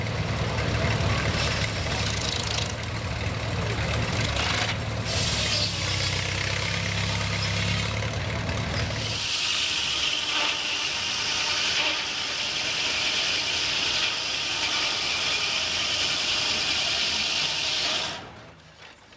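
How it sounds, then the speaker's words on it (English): Antique gas engines run at an outdoor flea market and antique gas and steam show in Jacktown, a steady mechanical chugging hum with a deeper low throb in the first half, then a brighter hiss-like running tone before fading out. "Here's some gas engines in action."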